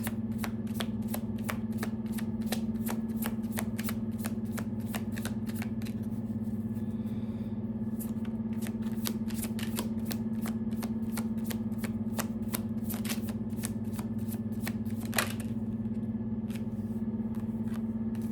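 Tarot cards being shuffled by hand in a fast, steady riffle of crisp flicks, continuous and close for the whole stretch, over a low steady hum, with no talking.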